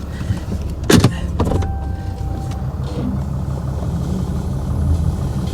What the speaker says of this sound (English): watch me move the car forward, the truck, and it should just roll the car right off the trailer